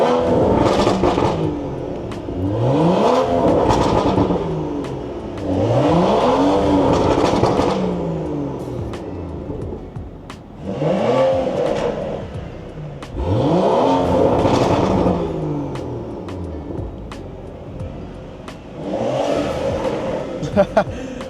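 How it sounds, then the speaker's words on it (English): Car engines rev hard in a rev-off at a gas station, repeated rising roaring bursts with rapid climbing pitch, loud and close, separated by short idling lulls. "We're doing a rev off at the fucking gas station."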